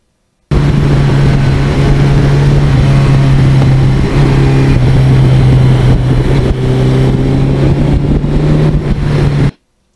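Suzuki GS1100E motorcycle on a test ride after new custom wheels were fitted, cruising at high speed on a main highway: a loud, steady engine drone with a constant low hum that holds for the full stretch, with no talking.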